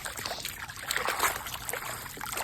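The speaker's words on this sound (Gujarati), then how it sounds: "તો અહીંયા આપણે એને પાણીમાં ધોતા જઈએ કારણ કે આને બે ત્રણ પાણીએ ધોવી પડે" Garmar roots being washed by hand in water, with soft sloshing and trickling splashes, close and fairly quiet, with no talking.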